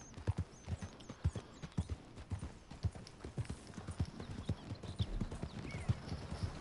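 Horse hooves clip-clop in a steady walking rhythm in Red Dead Redemption 2 on PS4, close and clear, with an occasional faint whinny and a brief voice in the background.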